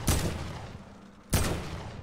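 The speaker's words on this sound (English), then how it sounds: "So this is the heavy AR." Heavy assault rifle from the Fortnite battle royale game, firing two loud single shots about a second apart, each a sharp broadband crack with a decaying tail.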